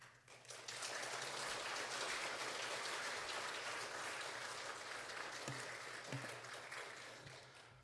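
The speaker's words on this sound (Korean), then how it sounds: "박수로 환영해 주시면 감사하겠습니다" Church congregation applauding to welcome a seminary president to the front, a dense, sustained wash of clapping heard from a distance that swells quickly and holds steady before tapering slightly toward the end.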